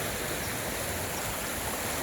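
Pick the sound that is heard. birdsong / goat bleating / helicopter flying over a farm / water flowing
water flowing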